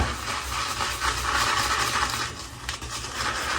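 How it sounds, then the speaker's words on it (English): Badger-hair shaving brush whipping shaving cream into lather in a bowl, a steady close, wet hissing swish that runs on without a break. "Got my badger brush, put it in there, and I'm going to start mixing it."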